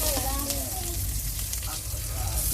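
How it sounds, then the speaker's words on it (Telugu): Sliced onion and green chillies frying in a pan for sweet corn pulao give a steady, close sizzle, with faint voice-like tones drifting in and out over the frying. "1 ఆనియన్, 2 ఇంచులు, 2 పచ్చిమిరపకాయలు వేసుకొని బాగా ఫ్రై చేయాలి"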